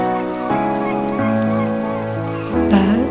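In the Norwegian countryside, geese or similar fowl give loud, honking calls in a string of sustained, overlapping notes, with a harsher burst near the end and no voices.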